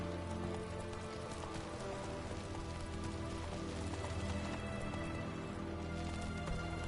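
Roach, the horse in The Witcher 3, gallops with a steady, fairly close clip-clop of hooves that continues throughout, laid over a constant rain-like hiss and low ambient hum, with no talking.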